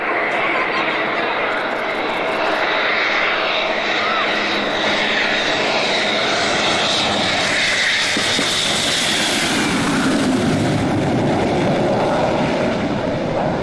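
A Mirage jet aircraft performs a touch-and-go on a four-lane motorway, its engine roaring loudly and continuously, swelling midway, while a voice talks over it.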